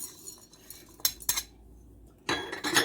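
Dry cloves and peppercorns are dropped into a container for suya spice mix, giving sharp rattling clinks in a few quick bursts with a louder clattering spill near the end.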